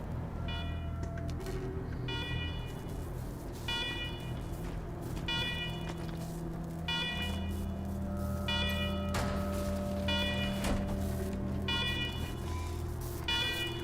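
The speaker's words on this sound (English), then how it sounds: "Alarm!" Repeating electronic alarm tones blare steadily over a low droning hum inside a video game, the pattern recurring in regular pulses for the whole stretch with no talk.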